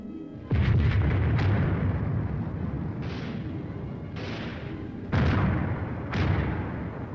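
A 4.2-inch mortar platoon lays down a blanket of fire on a battlefield: a series of heavy booming blasts, some in quick clusters, rolling and echoing between shots.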